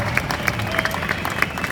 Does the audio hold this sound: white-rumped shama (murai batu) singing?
no